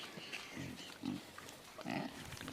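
Pigs grunt and snort in short, loud bursts in a pen on an Andhra Pradesh pig farm. Several close snuffling calls come in uneven clusters over low farmyard noise, with no one speaking.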